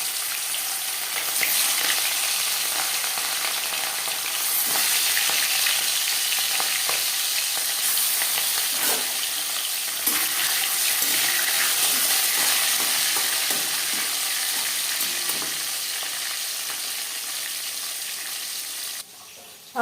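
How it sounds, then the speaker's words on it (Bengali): Marinated katla fish pieces sizzle and spatter steadily in hot refined oil in a wok, a continuous loud frying hiss with faint stirring clicks and no voices. "তেল গরম হয়ে গেছে। এবার দিয়ে দিলাম ম্যারিনেট করে রাখা মাছ।"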